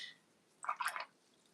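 A watercolour brush dabs up excess water on a painting, a brief soft wet squish and slurp in a quiet room.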